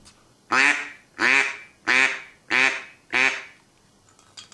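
A duck call blown harder, giving five loud, evenly spaced quacks, each one rasping and then trailing off, with short gaps between them and nothing else heard.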